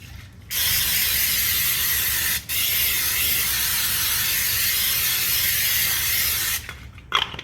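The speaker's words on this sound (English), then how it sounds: "We're gonna get our cooking pan and we're gonna spray it real good." Cooking spray hisses steadily into a pan for about six seconds, broken by one brief pause, close and fairly loud with no talk over it.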